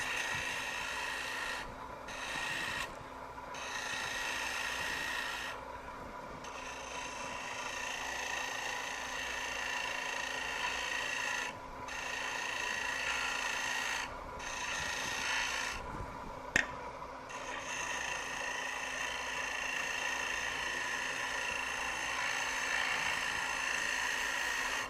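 On a lathe, a woodturning gouge cuts a spinning wood piece with a continuous steady hiss and rasp, briefly lifting off the wood several times. One sharp click is heard partway through, and no one speaks.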